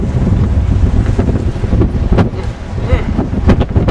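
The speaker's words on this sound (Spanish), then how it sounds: "El viento me está jalando, está muy fuerte." Loud, constant wind buffeting the microphone outdoors in Tampico, with a heavy low rumble, a few sharp knocks and clatters, and a voice partly buried in the roar.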